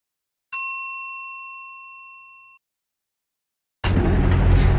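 A single bright notification bell ding rings out clearly in silence and decays over about two seconds, followed after a pause by a burst of loud broadband noise.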